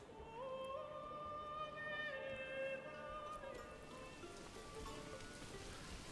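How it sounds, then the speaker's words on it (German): Rain falls in the medieval city-building game Manor Lords, a soft, steady patter that lasts throughout at low volume, with gentle tonal music notes gliding over it. "Und jetzt regnet es wieder."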